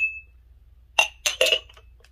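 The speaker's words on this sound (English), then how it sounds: "cute little duo, gorgeous little fluted" Stackable fluted drinking glasses clinking together indoors, three quick bright clinks in a row after a brief tone, with no talk.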